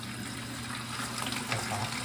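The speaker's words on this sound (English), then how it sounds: "And I'm going to turn the hot water on." Hot water runs steadily from a faucet at a cold-weather horse barn, a broad, even hiss of flowing water at moderate level, unbroken for the whole stretch with no voices.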